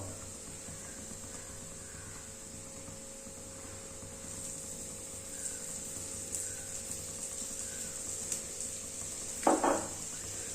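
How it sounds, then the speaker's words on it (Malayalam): Spice powders roast in coconut oil for a crab curry, a faint steady sizzle with occasional light stirring clinks and a short scrape near the end. "ഈ പൊടികളൊക്കെ ഒന്ന് കരിഞ്ഞു പോകാതെ ഒന്ന് മൂപ്പിച്ചെടുക്കുകയാണ്."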